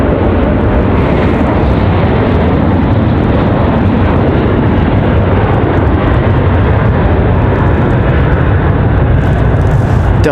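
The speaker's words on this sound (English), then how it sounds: "Try to get you a little bit of this Delta departure." A Delta airliner taking off from Raleigh-Durham airport, a loud continuous jet roar that holds steady and fills the whole stretch with no voices.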